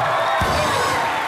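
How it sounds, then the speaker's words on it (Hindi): A studio crowd on a comedy chat show cheers and whoops loudly, a dense, continuous roar of voices filling the short stretch without a break. "वाह जोरदार तालियां।"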